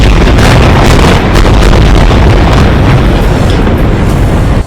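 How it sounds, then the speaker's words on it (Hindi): A massive missile strike explosion on a building in Gaza roars as a sustained, overwhelming blast with rumbling low end and crackling bursts, extremely loud and close, with no voices. "एक इमारत पर तो एक के बाद एक कई मिसाइलें गिरी, जिसके बाद ऐसा धमाका हुआ कि कान के पर्दे फट जाएं"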